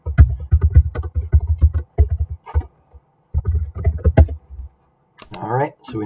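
Quick bursts of typing on a computer keyboard, sharp clustered clicks in uneven runs with short pauses, followed by a brief rustle near the end.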